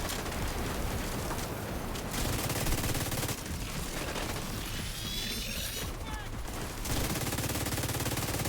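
Sustained automatic gunfire from a video game firefight in Brooklyn roars on continuously and loudly, layered with explosions and mechanical clatter, with short dips in intensity partway through.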